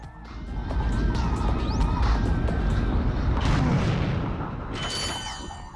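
Dense video game combat in Ratchet and Clank, with enemy gunfire and heavy booms rumbling continuously and loudly, punctuated by laser zips and crashes, and a bright metallic burst near the end.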